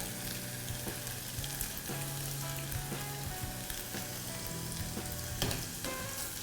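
Crab sticks deep-fry in hot oil, a dense, continuous bubbling sizzle close up with occasional small pops and a couple of faint clinks near the end.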